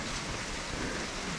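Steady rain pours on a mountain trail on Mount Lawu, a dense, even hiss with no breaks, fairly loud and close, with no voices.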